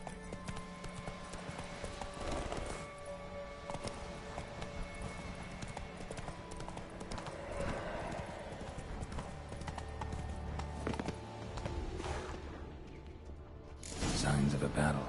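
Roach the horse trots through The Witcher 3 video game, her hooves clip-clopping in a steady, close rhythm for the whole stretch, with voices and ambient game sounds mixed in.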